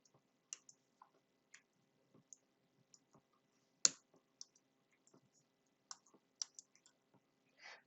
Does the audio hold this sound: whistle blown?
no